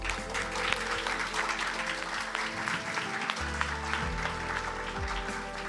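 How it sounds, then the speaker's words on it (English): Conference audience at Cosmoverse 2023 applauding, a dense wash of many hands clapping steadily for several seconds, fairly loud and sustained, with faint speech-like murmur mixed in. "applause for yourselves"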